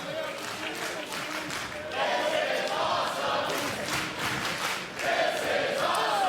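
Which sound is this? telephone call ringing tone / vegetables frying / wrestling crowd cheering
wrestling crowd cheering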